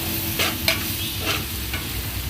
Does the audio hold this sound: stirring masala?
yes